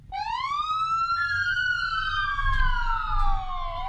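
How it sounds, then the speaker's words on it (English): A police car siren wails up close on top of a squad car, one long rising and falling tone with rich harmonics, loud and clear over a low rumble. "I know where the siren is. It's right on top, right there."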